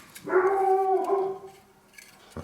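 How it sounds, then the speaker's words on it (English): A dog howls indoors during work on Jaguar independent rear suspension radius arm bushes, one long sustained wavering howl of about a second and a half, fairly loud and close, then fading to quiet. "Sorry, it's my dog"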